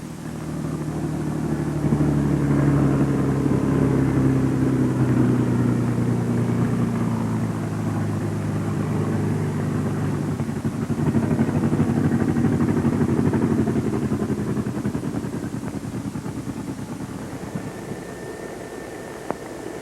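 A Bell P-39 fighter's piston engine drones steadily while the aircraft taxis, a loud, close, continuous rumble with a fluctuating tone and slight swells in intensity.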